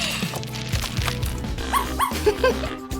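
Small yips and barks, likely from a dachshund, come in a short quick series over a steady music bed, sounding moderately close.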